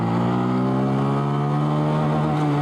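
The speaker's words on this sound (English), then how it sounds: "Dropping the clutch in first gear." A Honda Monkey motorcycle fitted with a 14-tooth countershaft sprocket pulls away as the clutch is dropped in first gear, its engine a loud, close, steady buzzing drone throughout.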